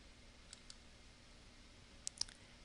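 A few faint, sharp mouse clicks sound in a quiet room while clicking through PowerPoint slides, two light ones early and a closer cluster near the end.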